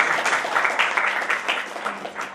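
An audience at an Art of Living Foundation event in Indore claps, giving a brief burst of steady, moderately loud applause that fades slightly toward the end.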